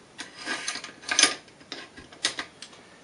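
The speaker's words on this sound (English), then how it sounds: "What we'll go ahead and do is replace our bolt carrier and bolt." A bolt carrier and bolt slide back into a VEPR AK-47 rifle, with a run of light metallic clicks, scrapes and small clacks from close by and no talk.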